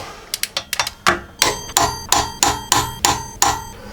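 Evo 5 flywheel bolts being tightened with a torque wrench, a sharp run of about a dozen loud metallic clicks, quick and uneven at first, then evenly spaced.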